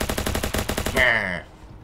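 Rapid gunfire in the Ancient Warfare 3 battle simulator, an island castle ringed by bridges, with about eight evenly spaced shots over the first second, then a ringing tone that fades into quiet.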